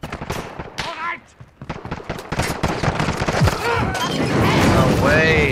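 Rapid, loud gunfire in Call of Duty Modern Warfare Gunfight gameplay, bursts of automatic shots and impacts crowding together, growing denser toward the end.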